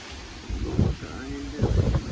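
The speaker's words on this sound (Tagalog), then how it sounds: "Hangin dito." Typhoon Odette wind in Talibon, Bohol, blows in low rumbling gusts with mic buffeting, swelling twice over a couple of seconds.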